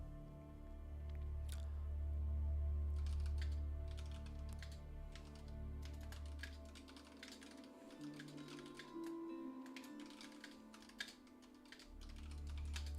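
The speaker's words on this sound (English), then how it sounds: "I'm just typing something quickly." Quick bursts of computer keyboard typing click through a livestream of an Age of Empires tournament, irregular and close, over a steady low hum of background sound.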